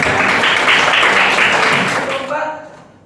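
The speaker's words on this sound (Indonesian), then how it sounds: "Oke, beri aplaus untuk kelompok 4" Classroom applause for a student group during a lesson, a loud burst of clapping from the class that fades out after about two and a half seconds.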